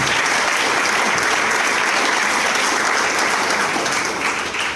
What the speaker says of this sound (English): Can we have a round of applause for Konrad joining us here tonight?